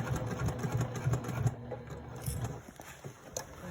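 A sewing machine top-stitches through a thick handbag section over a strap connector, running steadily with a low mechanical hum and rapid needle clatter, close and continuous with no talk.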